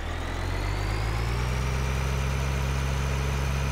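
A tractor engine in Farming Simulator 2013 runs through a steady, loud low drone during a canola harvest, with all-wheel drive engaged. The hum holds unbroken for the whole stretch with no talking.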